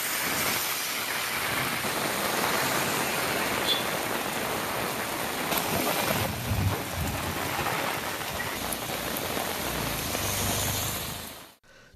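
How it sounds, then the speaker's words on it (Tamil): Heavy rain pours steadily in the Tiruvallur area near Chennai, a dense loud hiss of drops on surfaces with occasional low rumbles, continuing without voices until it cuts off at the end. "காலை முதல் இரவு வரை விட்டு விட்டு மழை பெய்தது"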